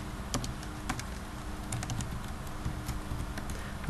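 Fingers tap out a search term on a computer keyboard, producing quick, irregular clicks that stay close and steady for the whole stretch, with no voice over them.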